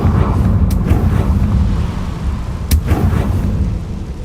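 A Confringo blasting spell erupts in Hogwarts Legacy, a loud crackling burst over a dense rumbling battle bed, with a sharp crack near the start and another bright blast later, all without any voice.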